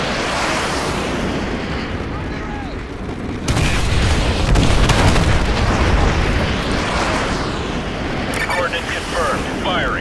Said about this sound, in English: Mission received. Artillery inbound.